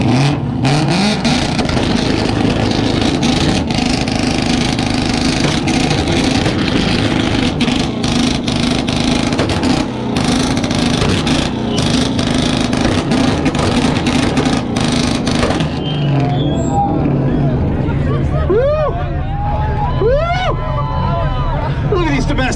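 A Ford Mustang launching at a 2-step competition at Import Face-Off roars loudly and continuously with revving surges, crowd noise mixed in, then fades as the car pulls away and distant voices remain.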